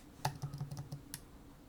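A computer keyboard during SketchUp modelling work, with one sharper spacebar-like press followed by a quick run of soft key taps, close and quiet, with no talking.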